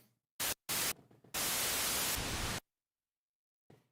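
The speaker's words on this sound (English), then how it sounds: "That's the white noise." Harsh, bright white noise from a Behringer Odyssey synthesizer hisses in short bursts, then one long sustained blast, before cutting to silence with a faint click at the end.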